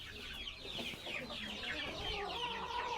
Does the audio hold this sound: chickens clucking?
yes